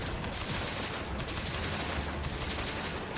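Light bowgun ammo firing in Monster Hunter Rise, a dense rapid crackle of shots in a steady barrage with no clear gaps, loud and continuous over a low rumble.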